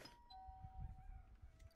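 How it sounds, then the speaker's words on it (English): In the Content Warning game, a doorbell gives a clear ding tone that rings out and slowly fades, over low rumbling noise and soft movement sounds. "What was the ding dong for?"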